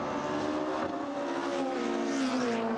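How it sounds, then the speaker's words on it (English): A sports sedan race car engine at a club race meeting drones at high pitch with a steady harmonic whine that shifts slightly in tone, sounding somewhat distant and continuous. "you're just trying to get a noise of the engine there in the background"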